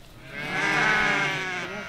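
A single sheep gives one long, wavering bleat close by, swelling in the middle and fading away, amid a flock being brought in.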